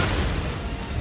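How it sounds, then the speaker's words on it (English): A spaceship explodes in a rumbling, dense burst of noise that fills the whole second, loud and sustained with no talking. "the ship blew up with Miguel on it"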